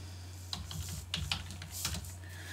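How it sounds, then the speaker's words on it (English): Quiet clicking keystrokes on a computer keyboard as a short command is entered, a few light taps spread over a couple of seconds over a low steady hum. "we're just going to type in java-version."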